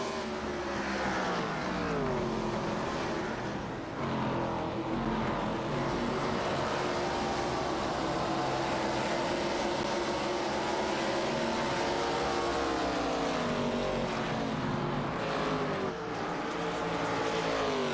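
Race car engines roar around the Iowa oval in an ARCA Series racing video game, a loud, steady multi-car drone with rising and falling pitch as cars accelerate and pass, running continuously throughout.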